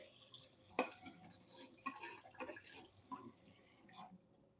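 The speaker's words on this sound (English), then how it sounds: "I'm going to rinse this because we'll just cut our potatoes with this cutting board too" Cutting board rinsed under running water at a kitchen sink, soft steady trickle with scattered clinks and knocks of the board against the sink, quiet and close.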